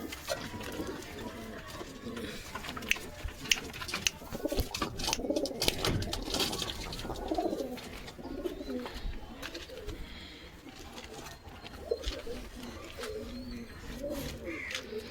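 Pigeons in a loft in Habra coo over and over in soft, throaty rolls, close by, with rustling and light background noise between the calls.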